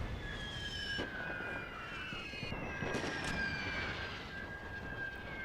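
Battlefield din from The Great War 6.0 game: dense crackling gunfire and muffled blasts under high whistling, shell-like tones that sweep across, continuous and fairly faint, with no talk.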